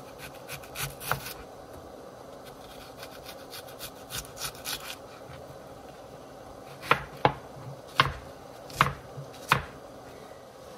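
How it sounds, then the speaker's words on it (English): A kitchen knife chops an onion on a cutting board: light scattered taps at first, then five or six sharp, evenly spaced chops near the end, close and clear with no talking. "I'm gonna chop up this onion and get it in there"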